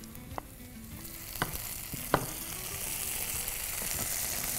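Ginger garlic paste frying with onions on a hot dosa tawa, a steady close sizzle with a few sharp crackles and pops, growing slightly fuller toward the end.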